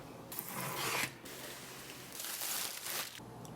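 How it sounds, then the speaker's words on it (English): A Hot Toys Hawkeye Avengers figure box is opened, with close bursts of rustling, scraping and sliding packaging sounds in uneven spurts and brief pauses, with no speech. "Just cut to the box being opened."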